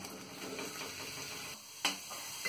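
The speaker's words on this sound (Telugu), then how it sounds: "ఆయిల్ వేడెక్కిన తర్వాత ఉల్లిపాయలు, పచ్చిమిర్చి వేసి వేయించుకోవాలి." Onions and green chillies frying in hot oil, a faint, soft sizzle with light stirring, quiet and close, with one sharp clink of utensil near the end and no talking.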